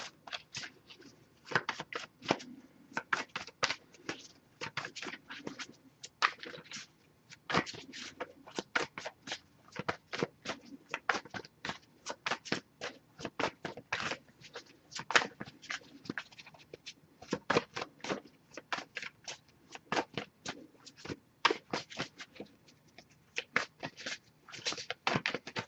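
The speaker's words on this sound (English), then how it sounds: "if I shuffle for a while without anything coming up, I'll just move on to the next Oracle deck" Oracle cards are shuffled by hand at close range, a long run of quick, crisp riffling and slapping bursts with brief pauses between, without talk.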